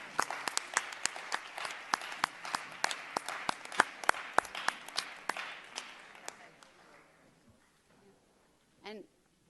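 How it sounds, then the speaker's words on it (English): A round of applause at a board of education meeting, scattered, fairly sparse clapping that thins out and fades over several seconds, with a brief voice at the end. "Can we have another round of applause?"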